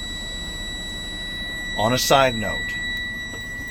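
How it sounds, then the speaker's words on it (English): A steady high-pitched electronic warning tone from an armored truck's low air pressure alarm, triggered at or before 55 psi during an in-cab inspection, sounds continuously, with someone briefly speaking over it midway. "The alarms came on at or before 55 psi."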